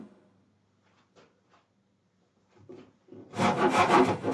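Coarse sandpaper scrubbing the wood of a custom guitar body in a luthier's workshop, a loud dense rasping burst that starts suddenly near the end after some faint scattered taps and quiet handling.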